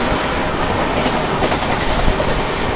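Vande Bharat express rushing past on the parallel track, a dense, loud close-range roar with rapid clickety-clack of wheels over rail joints, no talk.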